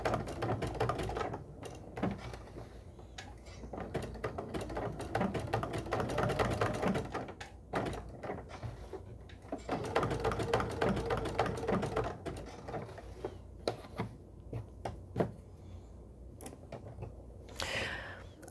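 A sewing machine stitches invisible appliqué, sped up, with a dense continuous rattle of needle strokes and motor hum that drops out briefly before running on.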